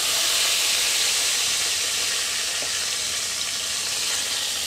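Teasel gourd (kakrol) slices fry in an uncovered pan, giving off a steady, close, even sizzle and hiss that runs throughout with no voices.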